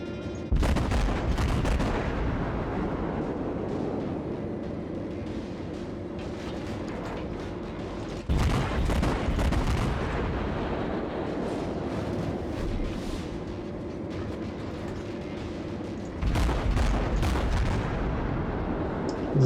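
Naval gun salvos in the World of Warships video game, three heavy booming volleys spaced several seconds apart, each followed by a long rumbling decay.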